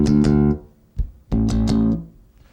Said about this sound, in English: The phrase of this, which I'm going to play just on my bass without counting,